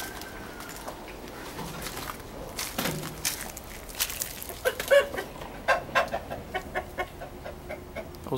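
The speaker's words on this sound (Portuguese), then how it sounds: "Os galos brigando." Roosters scuffle and cluck nearby, with sharp flapping and thumping bursts in an uneven rhythm.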